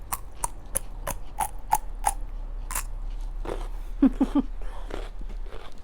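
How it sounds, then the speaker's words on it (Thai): A person eating a homemade Thai stir-fried holy basil dish with rice, made by a Japanese cook, with a run of close, rhythmic crunchy bites and chewing, some muffled murmuring near the end. "กินเหมือนกระต่ายเลย"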